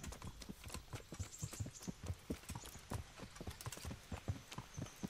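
Horse hooves clip-clop at a steady riding gait in the video game Kingdom Come Deliverance, a quick rhythmic run of close, crisp hoof strikes with a faint background hum.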